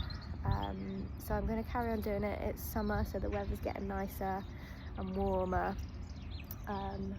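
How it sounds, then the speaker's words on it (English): Birds chirp and sing in a peaceful summer outdoor spot, a string of short repeated calls running throughout under someone talking close by. "You can hear the birds singing"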